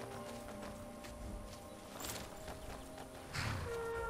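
Horse hooves clip-clopping in Skyrim, a steady rhythmic patter of a ridden horse under continuous game ambience and music, with no talking.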